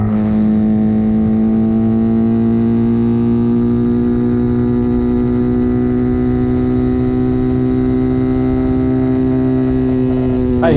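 An RPS Hawk DLX 250 dual-sport motorcycle engine drones steadily at high revs on the road, its loud, constant tone rising slowly in pitch as the bike accelerates, with wind noise underneath.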